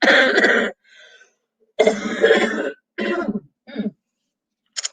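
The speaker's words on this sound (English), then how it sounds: "It's just this cough" A few harsh, raspy coughs in separate bursts with short pauses, close and loud, ending with a faint brief sound.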